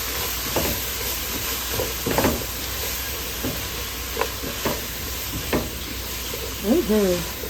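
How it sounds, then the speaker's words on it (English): Food frying in a pan while blue fish cooks, a steady hiss of sizzling with scattered stirring scrapes and taps, and a voice speaking briefly near the end. "Give it a stir."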